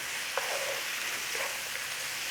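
Garlic fries in a pan, a soft, steady sizzle with a couple of faint scraping stirs, fairly quiet and continuous, with no talk.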